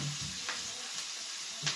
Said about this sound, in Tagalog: tumalsik po yung sibuyas